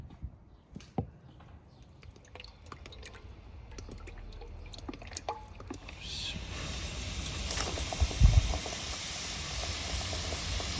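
Sauce-dipped chicken pieces frying in hot oil for homemade crispy KFC-style chicken in a village kitchen, with soft drips and pops that swell into a steady bubbling hiss, briefly joined by a voice.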